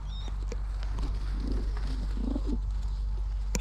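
Young pigeons coo softly while being dipped in a bucket of water treated for red mite, with a few close, low cooing calls and light bird chirps over a quiet background.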